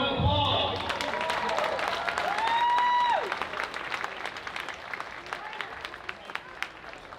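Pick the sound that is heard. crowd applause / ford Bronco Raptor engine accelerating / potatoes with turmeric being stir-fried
crowd applause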